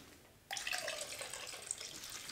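Engine degreaser poured into a container of water, a sudden splashing gush that starts abruptly and continues steadily for a couple of seconds, close and fairly clear.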